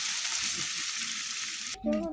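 Small fish frying in hot oil give a dense, steady sizzle close up, which cuts off abruptly near the end as a brief voice-like tone follows.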